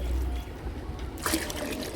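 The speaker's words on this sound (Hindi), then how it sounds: "तो जितनी खाद है उसका 3 गुना हम इसमें पानी मिला लेंगे।" Water is poured into homemade phosphorus- and potassium-rich plant fertilizer, about three times its volume. It makes a steady close trickle that grows into a louder splashing gush partway through.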